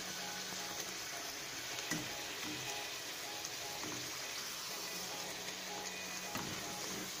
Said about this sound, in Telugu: దీన్ని టర్న్ చేసుకొని రెండో వైపు కూడా గోల్డెన్ బ్రౌన్ కలర్ వచ్చే వరకు ఫ్రై చేసుకుందాం